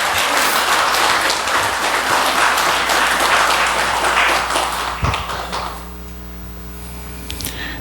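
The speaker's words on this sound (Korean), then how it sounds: "뜨거운 감사의 박수 한번 주시고" An audience at a Korean temple lecture breaks into loud, dense applause that carries on for about five seconds, then quickly fades into quiet room tone with scattered last claps.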